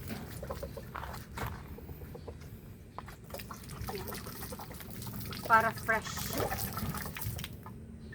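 Water splashes and trickles onto the ground in uneven bursts, with a person speaking briefly nearby.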